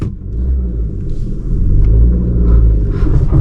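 A car engine is held at the clutch biting point on an uphill start, accelerator applied, giving a loud, close, steady low rumble that swells slightly as the revs build.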